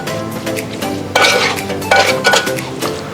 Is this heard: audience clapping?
no